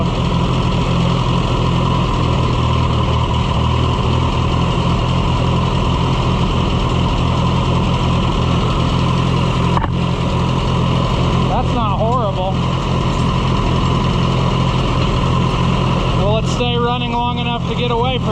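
A vintage Case VAC tractor engine runs steadily and close by after being choked, a continuous rough rumble with no breaks, while voices talk over it at times.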